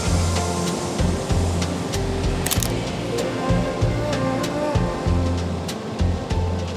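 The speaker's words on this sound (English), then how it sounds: "the waves are mesmerizing and the sound of the ocean is just very calming." Pacific Ocean surf at Sunset Cliffs in San Diego rolls in a loud, continuous wash with rhythmic low rumbles, nearby and steady, with faint clicks over the roar and no talking.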